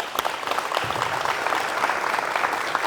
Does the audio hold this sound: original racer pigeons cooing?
no